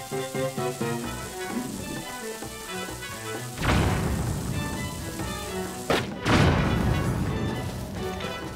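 An explosive blast goes off in Zelda: Tears of the Kingdom amid game music, a sudden loud crash followed by a second burst and a long crackling, rumbling decay.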